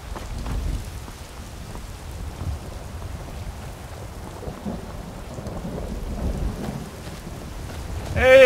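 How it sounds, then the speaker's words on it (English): Rain and rolling thunder in the video game Skyrim, a steady broadband downpour with low rumbles swelling throughout and a louder burst near the end, with no talking over it. "And it rains."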